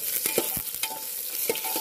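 Soybean chunks fry in hot oil in a home village kitchen, with a continuous close sizzle broken by several sharp stirring scrapes and clinks.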